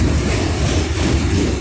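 A CSX freight train car with a flat wheel rolls past close by, a loud continuous rumble of heavy wheels on rail filling the whole moment.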